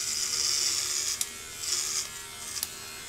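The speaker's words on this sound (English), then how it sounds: "that's asking a lot for this little trimmer to shave my head" Micro Touch Solo Titanium trimmer shaving a head: a steady close electric buzz that strains and shifts in pitch as the blades pass through hair, with a few brief clicks and catches.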